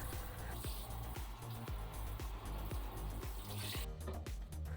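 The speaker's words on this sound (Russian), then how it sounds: "Быстренько споласкивайте ванну водой." Water runs over a bathtub surface as it is rinsed, a faint steady hiss of flowing water with soft repeated taps and splashes.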